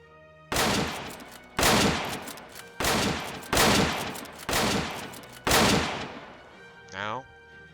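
Rifle assault gunfire in a game, six loud sharp bursts close by at a steady rhythm, each ringing out before a brief pause, ending with a faint electronic warble.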